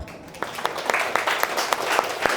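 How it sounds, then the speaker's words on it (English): A classroom group applauds a student, light scattered clapping from a small audience, fairly close and continuous for a couple of seconds. "big applause for her"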